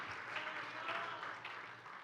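A church congregation gives a round of applause, a steady dense patter of many hands clapping at a moderate distance that tapers slightly toward the end.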